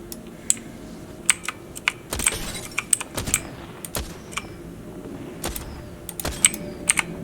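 Keys on an E-Yooso K700 mechanical keyboard are pressed during Apex Legends gaming, giving irregular, crisp clicks and clacks in short bursts and single taps, close and clear with no talk.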